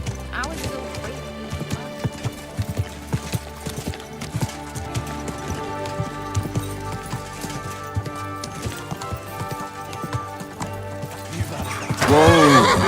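A horse in Kingdom Come: Deliverance 2 whinnies amid steady hoof clip-clops, with game characters talking over it and a loud neigh rising near the end.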